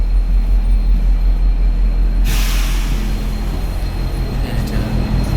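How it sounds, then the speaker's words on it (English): Steady low rumble of a VIA passenger train carriage interior in motion near Montréal, with a brief hiss of air partway through and faint background voices. "So this is a train carriage number 4."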